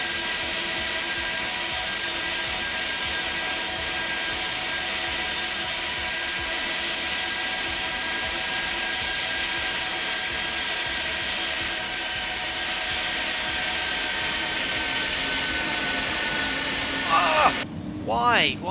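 Airbus A300 jet engines idle and whine steadily while taxiing in the X-Plane flight simulator, a constant even drone with high tonal hum throughout, ending with a brief sharp noise burst.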